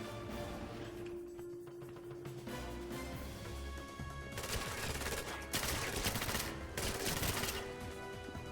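Full-auto gunfire in the 2012 shooter game 007 Legends comes as dense, rapid bursts of shots over a droning game soundtrack, growing louder and more continuous in the second half.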